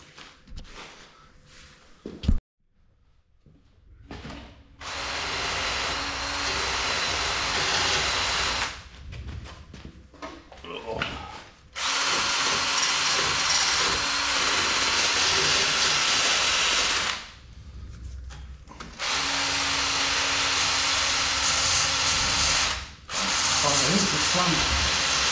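A wire wheel on a power tool grinds primer off Land Rover Series steel near a suspension dumb iron, running in several long, loud, harsh hissing bursts separated by short pauses and quieter gaps.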